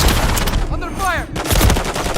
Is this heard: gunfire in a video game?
yes